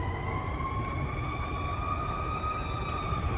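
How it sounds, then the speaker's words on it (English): Several fire truck sirens wail steadily as the trucks pass, their rising and falling tones loud and continuous over a low rumble of traffic, with no one speaking. "Trying to wait for these fire trucks to go by."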